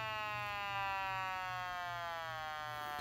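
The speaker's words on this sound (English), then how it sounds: "this might sound more like a firehouse siren or a tornado siren" An Elenco Electronic Playground 130 kit circuit with a large capacitor produces a siren-like electronic tone, a steady rich buzzing whine that slowly glides downward in pitch as it winds down, continuous and fairly quiet throughout.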